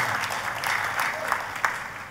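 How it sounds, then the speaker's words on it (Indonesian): A church congregation gives a round of applause for God, a fairly quiet, even patter of many hands with a few sharper claps standing out, lasting about two seconds. "tepuk tangannya yang meriah buat Tuhan kita"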